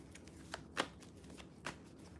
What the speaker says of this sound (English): These ones are a little bit harder to shuffle with my brace